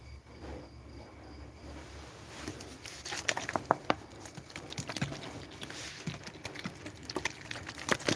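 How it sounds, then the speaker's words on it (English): Rain falling outdoors near a garden with sugarcane, okra and capsicum plants, steady soft patter with scattered sharper drops growing denser over several seconds, alongside a faint insect-like chirr. "Now you can hear the rain."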